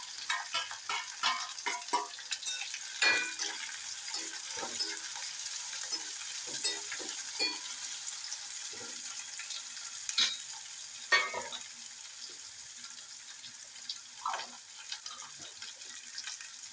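Onion, green chili and ginger sauté quietly in a pan, a soft continuous sizzle broken by irregular scraping stirs of a spoon, heard close and faint with no talking.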